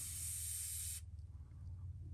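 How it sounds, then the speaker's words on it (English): A steady, bright hiss of an airbrush spraying paint on a fishing lure lasts about a second, then stops, leaving a low mechanical hum behind. "you probably want to do is do them a section at a time instead of trying to spray the whole bait"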